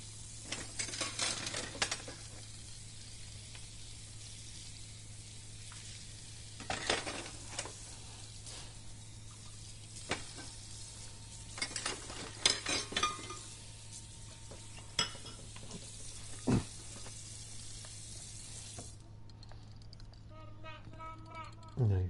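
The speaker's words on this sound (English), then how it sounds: "So we're going to do these dishes." Dishes are washed in the horror video game Emily Wants to Play Too, with repeated clattering, stirring and splashing bursts over a steady low hum, spread across the stretch and ending in a few quick clicks; a person talks throughout.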